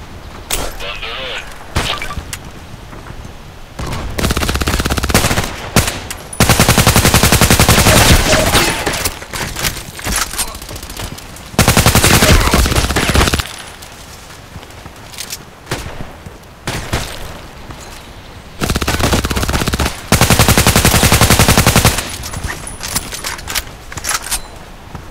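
Bursts of MK14 EBR CQB rifle gunfire in the shooter game Contract Wars, loud rapid volleys in several separate clusters with quieter gaps between, and some talk underneath.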